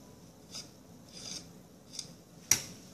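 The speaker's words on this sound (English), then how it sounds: "So, I have to scrape it over here." Scraping potato cake batter by hand without a spatula, a few soft rasping strokes spaced apart and close by, ending in one sharper scrape.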